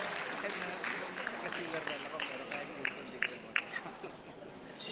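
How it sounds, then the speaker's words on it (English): Dinner-event audience at a Philippine-American chamber of commerce gathering in Houston claps steadily for several seconds, a dense, fairly close wash of hands with a few sharper claps standing out near the end. "let's give Congresswoman Sheila Jackson another round of applause"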